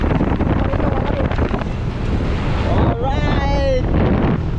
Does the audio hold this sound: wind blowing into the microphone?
yes